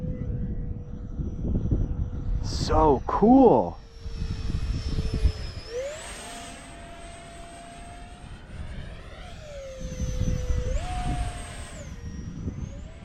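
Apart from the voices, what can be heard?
3D printed RC F-22 jet model flying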